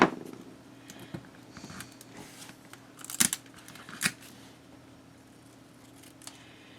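Scissors snip through paper being trimmed for a waterfall folio craft project, a few sharp crisp cuts spaced out over a quiet background with light handling rustle.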